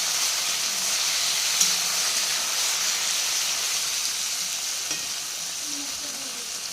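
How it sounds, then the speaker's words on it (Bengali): Taro stolons and onion sizzle in a pan for a prawn-paste curry, a constant dense hiss of frying oil with faint steamy crackle and a couple of light stirring clicks, close and unbroken, no voices. "লতি আর পেঁয়াজটা দিয়ে একটু ভাজা করব"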